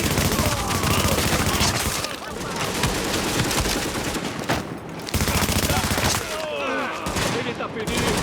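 Rapid automatic gunfire in the third-person shooter The Division, with sustained bursts and overlapping shots from several weapons, loud and close, while players shout over the shooting.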